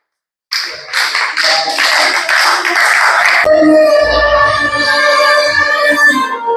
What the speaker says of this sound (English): So give them a huge round of applause, Radhika and group.